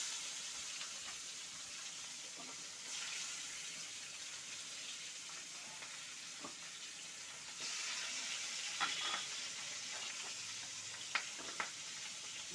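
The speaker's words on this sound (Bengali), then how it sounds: "একটুখানি নুন দিয়ে এবার বাকি মাছগুলি আমি ভেজে ফেলছি।" Bhetki fish pieces fry in hot oil with a faint, continuous sizzle and a few scattered pops and clinks from the pan. No voices are heard.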